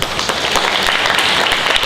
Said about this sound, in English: Please give your candidates a warm round of applause